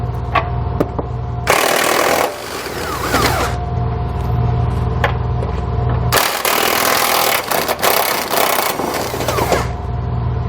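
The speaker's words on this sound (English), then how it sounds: "We're going to use a 21mm socket to remove those." Impact wrench on a 21mm socket rattling out frame bolts on a 2020 Jeep Grand Cherokee, two loud bursts of hammering with quieter shop noise and clicks between them.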